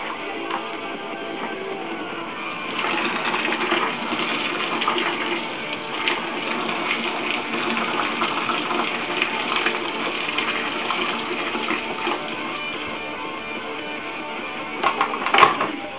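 Boiling water poured from a kettle into beer bottles to soak them for cleaning makes a steady, close gushing hiss that runs unbroken for about sixteen seconds, with a few clinks near the end.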